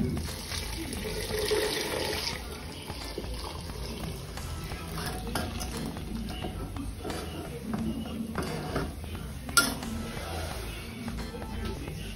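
Boiled milk poured over grated carrots in a pan for gajar ka halwa, a steady wet splashing and stirring with a faint kitchen background throughout and a brief clank near the end.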